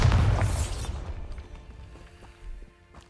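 A Bombarda spell in Hogwarts Legacy erupts with a heavy, loud boom that rumbles and decays over a few seconds, followed by faint crumbling debris.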